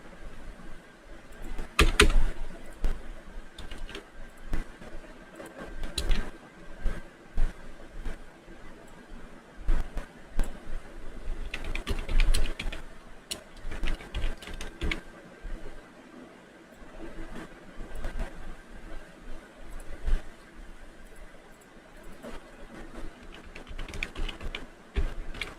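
Steady typing on a computer keyboard, with bursts of close, crisp key clicks that speed up and pause irregularly across the whole stretch.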